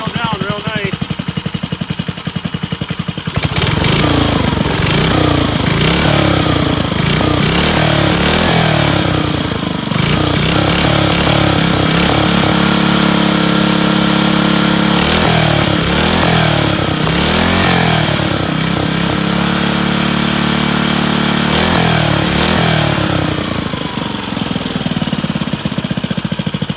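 A Briggs and Stratton 5hp flat head engine, a dump find, runs loud and close throughout with a rough, chugging putter that swells and settles in uneven surges, while someone talks over it.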